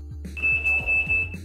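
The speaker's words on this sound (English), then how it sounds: "reverse alarm" A Taylor Dunn Bigfoot XL utility vehicle's reverse alarm gives one steady high electronic tone lasting about a second, clear and close, over low rumbling background sounds.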